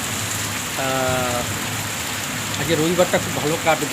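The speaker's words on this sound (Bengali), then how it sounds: "প্রচুর প্রচুর বৃষ্টি হচ্ছে" Heavy morning rain pours down in a steady, dense patter, with a person speaking over it.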